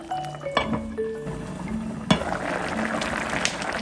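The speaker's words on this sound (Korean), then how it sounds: "뚜껑 덮고 한 2분만 더 끓이겠습니다" Doenjang stew with tofu boils under a lid, giving a bubbling, gurgling simmer with a few light clinks of the lid or utensils. It is close and moderately loud.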